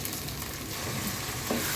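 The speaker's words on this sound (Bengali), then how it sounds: "খুব ভালো মতন চালটা কষিয়ে নেব" Rice being fried and stirred in oil for beef biryani, a dense close sizzle with a brief scrape of stirring, short and steady with no talk.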